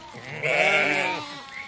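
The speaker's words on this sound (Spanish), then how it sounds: "En los próximos minutos escucharemos el balido de las ovejas." A single sheep in a transhumance herding setting lets out one clear, wavering bleat lasting about a second, close and fairly loud, with softer rural background around it.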